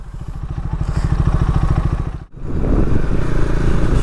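A KTM Duke 390 BS6 motorcycle being ridden, its single-cylinder engine loud and close with a fast throbbing pulse, a brief sharp drop as it shifts, then a coarser crackling roar.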